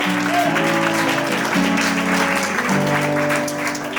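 A church congregation at a celebration service claps together in a dense, steady burst of applause, loud and close, with a sustained musical tone running underneath.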